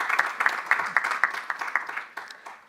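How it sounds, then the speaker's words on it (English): Small conference audience giving a round of applause, a sparse, fairly close patter of individual claps in an uneven rhythm that gradually tapers off. "Can also give a round of applause."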